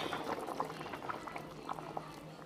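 Milk pouring into a pot of soft boiled potatoes for potato soup, a bubbling, liquid splashing sound with irregular gurgles, close and moderately loud, with no talking.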